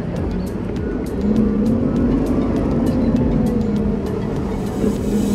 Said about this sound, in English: there's a car behind chasing me.